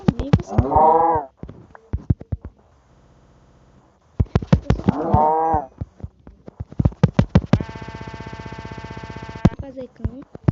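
Blocky cows in Minecraft Pocket Edition low out in loud, drawn-out moos, two or three calls spread among clicks and other game noises, with a steady buzzing tone near the end.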